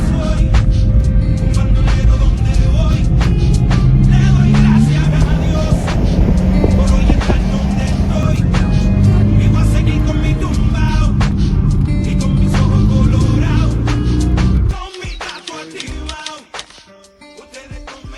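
Several sports cars, including a Supra, two Porsche GT3 RS, a GR Corolla and Lexus IS F sedans, roar through a canyon road with sustained loud engine noise and passing rushes that cut off abruptly near the end.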